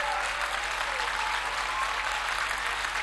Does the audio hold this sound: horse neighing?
no